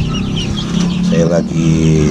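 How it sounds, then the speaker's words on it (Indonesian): Indio Gigante chickens cluck and murmur while feeding at night on a farm, a close, busy mix of short clucks and throaty calls. "Nah, ini ayam Indio Gigante saya."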